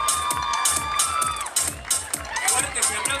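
An outdoor crowd at a dulce de leche queen pageant in Cañuelas, cheering and shouting in bursts, with an announcer's voice carrying over the noise.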